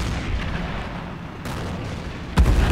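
Large tank cannon firing in a multiplayer tank battle game, a deep boom rising over a constant rumble of game noise near the end.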